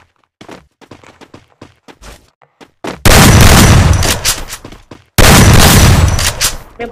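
Gunfire in the Free Fire battle royale game: scattered light taps and footsteps, then two loud sustained bursts of rapid automatic shooting, close and dense, separated by a short gap.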